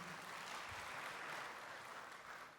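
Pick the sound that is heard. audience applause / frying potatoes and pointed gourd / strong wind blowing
audience applause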